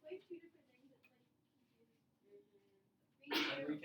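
A single sharp sneeze bursts out near the end, loud and close, after quiet murmuring speech and faint background noise.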